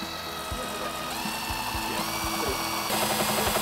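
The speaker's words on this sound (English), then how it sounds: "I hate drilling through my guitar." A power drill whines steadily up close as it bores through a wooden electric guitar body, its pitch shifting slightly as it bites, with repeated low knocks and rattles underneath.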